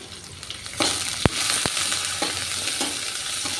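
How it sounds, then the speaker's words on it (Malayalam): Finely chopped onions sauté in a pan with a steady close sizzle, punctuated by two sharp spatula knocks early on and continued stirring. "സബോള വഴറ്റി കൊടുക്കാം"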